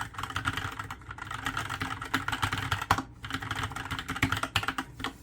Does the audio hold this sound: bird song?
no